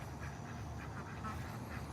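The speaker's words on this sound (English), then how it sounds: "And there's our ducks." Wild mallard ducks in a garden quacking in a steady, continuous run of calls, moderately close against a dense outdoor background with no talking.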